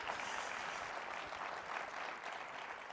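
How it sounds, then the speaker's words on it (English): Steady keynote-audience applause at the HxGN LIVE Global 2023 manufacturing event, a dense, even wash of clapping sustained throughout, fairly quiet and distant-sounding with no voices over it. "Feel free to give that a round of applause"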